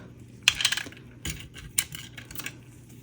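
A utensil stirs white resin mix in a cup, making a few sharp clinks and scraping taps in short bursts against otherwise quiet surroundings.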